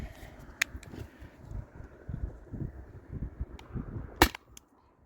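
A Salt Supply S2 or Sabre 68 launcher firing alien play rounds on a warm day outdoors, with one sharp, loud crack standing out from windy rustle and a fainter snap earlier.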